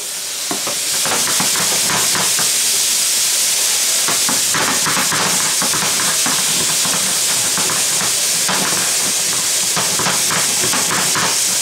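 Broccoli dropped into a hot pan with shrimp, giving a loud, steady steaming hiss and sizzle that carries on throughout, with intermittent stirring clatter up close.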